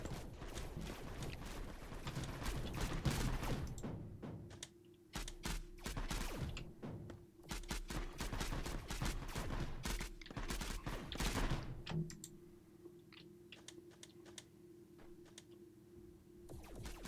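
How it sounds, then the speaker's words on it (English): Heavy enemy gunfire in a Mindustry Erekir siege battle, dense rapid volleys of shots and impacts rattling continuously for about twelve seconds, then dropping to sparse, fainter pops and clicks. "that's a lot of firepower we're facing right now"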